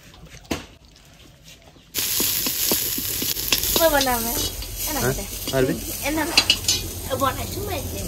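Masala and onions fry in a pan with a steady sizzle and stirring scrapes that start after a short quiet opening, while a person talks over the cooking.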